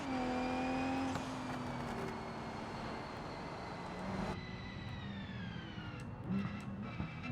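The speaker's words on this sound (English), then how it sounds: "I love listening to the straight cut gears. They sound so beautiful." Straight-cut gears whining in a racing video game car, a steady high tonal whine with harmonics that glides downward and shifts at one point, running continuously and fairly loud with no talk.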